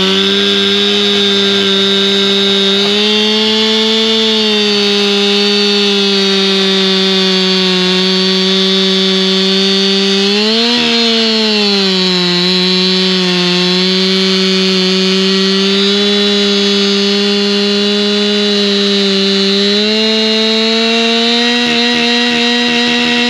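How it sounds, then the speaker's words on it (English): A chainsaw cuts the ends off logs for a garden table, giving a loud, continuous close-up engine drone. Its pitch dips briefly midway as the chain bites into the wood. "So I'll grab the chainsaw now and basically just rip my way down here and just cut off all these ends."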